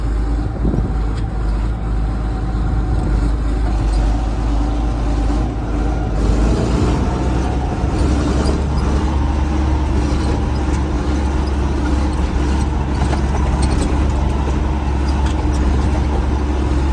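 An old farm vehicle on its final ride at a dairy farm, its engine rumbling loud and steady from up close for the whole stretch, with no voices over it.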